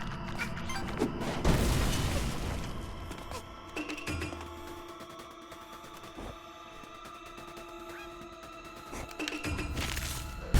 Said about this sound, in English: Why does it take so many explosions to blow up this window?